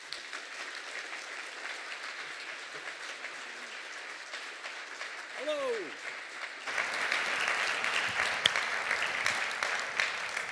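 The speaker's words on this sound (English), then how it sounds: "Please join me in welcoming him with a big round of applause." An audience applauds to welcome a keynote speaker at a centennial talk on higher education in Claremont, a steady broad wash of clapping that swells louder in the last few seconds, with a brief spoken greeting partway through.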